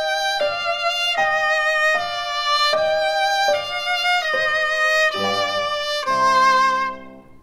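Piano and viola play a melody in canon, the viola imitating the piano's line right behind it in a steady sequence of sustained, ringing notes that stop cleanly at the end.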